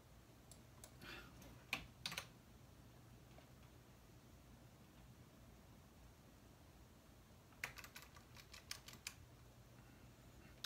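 Someone clicks a mouse and taps a computer keyboard in a quiet office, two short clusters of light clicks separated by a long near-silent stretch with a faint steady hum.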